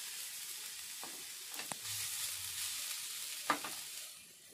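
Grated coconut stirred in a wok on a gas stove, a quiet, steady frying hiss broken by a few soft scraping strokes of the spatula, with no voices.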